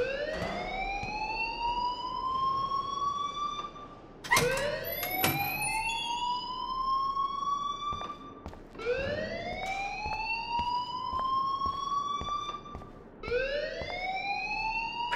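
A fire alarm in the video game Life Is Strange sounds as a loud electronic whoop, each rising sweep climbing for several seconds before restarting, repeating four times with no talk.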